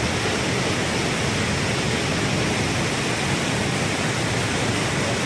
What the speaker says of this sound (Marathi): पेरला पाणी वाहत आहे